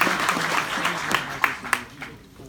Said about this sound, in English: let's give a round of applause for the co-authors